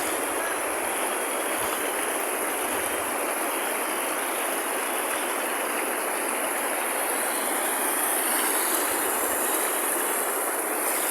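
A mountain river flows in a steady, loud, broadband rush, continuous rushing water close by with no voices over it.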